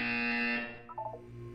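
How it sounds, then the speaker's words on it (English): A harsh electronic buzzer from a Five Nights at Freddy's exercise sequence blares steadily and loudly for about half a second, then gives way to shorter stepped electronic tones. "When you hear the buzzer, look up at the ceiling."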